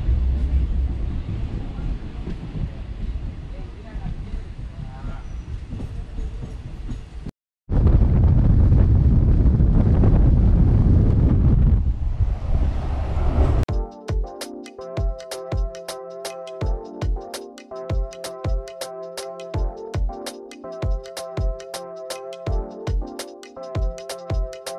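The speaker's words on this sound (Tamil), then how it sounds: "தமிழ்நாட்டுக்குள்ள வண்டி அப்படியே ஸ்மூத்தாக போயிட்டுருக்குங்க." A passenger train running between Palakkad and Coimbatore in Tamil Nadu during heavy monsoon rain, heard as a steady loud rumble with wind buffeting, briefly cut off, then giving way to rhythmic clicking wheel beats near the end.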